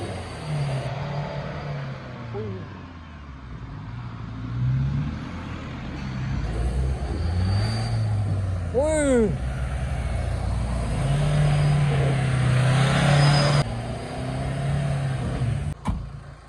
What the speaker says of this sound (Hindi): सफारी चलेगी पर अंकित चला रहा है एक गाड़ी